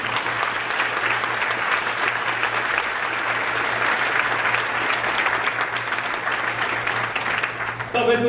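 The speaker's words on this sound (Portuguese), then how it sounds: "Dê uma salva de palmas para Jesus." Church congregation clapping together during a celebration service, a loud, sustained roar of applause with a low steady hum underneath, ending as a voice begins to speak.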